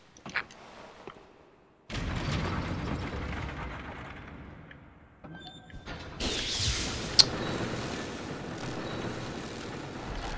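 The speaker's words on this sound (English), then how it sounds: "that drops an elevator for us" An elevator lowering in Bloodborne, a mechanical rumble that kicks in abruptly, grinds on with a few clanks, then swells into a louder rushing rattle, heard alone without talk.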